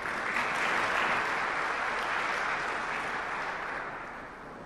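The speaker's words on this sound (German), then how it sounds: "Applaus" Sustained audience applause at a business award ceremony for the VN Top 100 Vorarlberg economic prize, a dense, steady clapping from a large crowd that holds loud for several seconds and then slowly tapers off.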